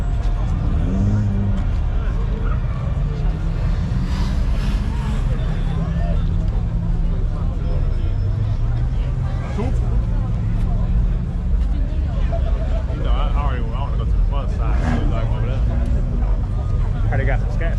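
Cars rev their exhausts during an exhaust competition at a car meet, with repeated engine roars and passing vehicles under steady crowd chatter and nearby talk.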